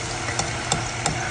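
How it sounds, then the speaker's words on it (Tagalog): Carrots and potatoes fry in a pan with a steady close sizzle and hiss. A few soft stirring scrapes come at regular intervals, and no one speaks. "Prito tayo ng carrots and patatas."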